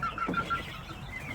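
Backyard chickens give a few soft clucks and chirps beside their simple homemade feed dispenser, faint and intermittent against a quiet outdoor background.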